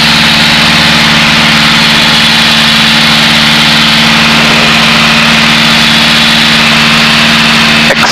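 A small training airplane's piston engine, throttled back in flight, drones steadily and loudly with a constant humming tone and vibration, unbroken for the full stretch.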